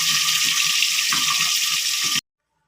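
Tangra fish fries in hot oil under a lid, giving a steady, loud, dense hiss that stops abruptly.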